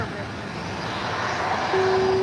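An airliner passes directly overhead at San Francisco airport: a loud, steady engine roar fills the clip and swells slightly near the end, with a rising whine.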